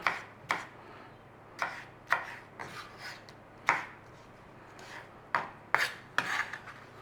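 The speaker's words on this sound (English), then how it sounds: "I'm going to do a selection of sliced and chopped." A knife slices and chops fresh tomatoes on a board with sharp, separate cuts, about ten of them, each a crisp close thud at an irregular pace, with quiet pauses between.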